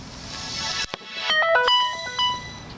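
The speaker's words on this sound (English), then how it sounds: "I then got out this phone and booted it up." A cell phone booting up plays a short, loud start-up jingle of bright melodic tones after a brief burst of noise, heard clearly with nothing else around it.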